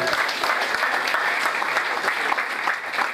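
A celebration program audience breaks into loud, dense applause, many hands clapping continuously and close by throughout.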